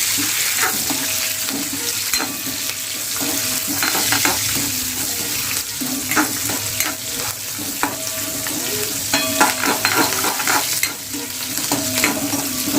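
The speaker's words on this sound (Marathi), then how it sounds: "मिरची मिरची जी आहे ना ती चांगली अशी फ्राय करूया तेला" Chillies fry in hot oil with a loud, continuous sizzle, and a spoon stirs and scrapes through the pan in repeated bursts close by.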